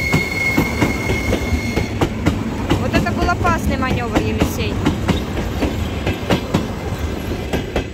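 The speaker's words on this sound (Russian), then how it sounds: "И эта электричка идет, да." An electric commuter train rolls past nearby at a railway level crossing, with rumbling wheels, rhythmic clicks over the rail joints and a brief metallic squeal, while a person speaks briefly over it.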